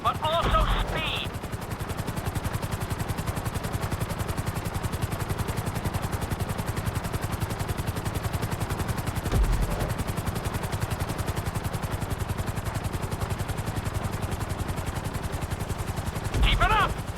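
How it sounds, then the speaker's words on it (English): Helicopter flying in the video game GTA V during a flight school course: a steady, loud rotor drone runs throughout, with a few brief sharper bursts near the start and end. "we'll see how well you handle the chopper"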